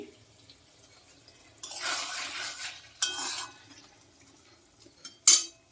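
Hot water poured into a pan of chicken curry, bursts of hissing sizzle and splashing between quiet gaps, close and moderately loud, ending with a sharp clink.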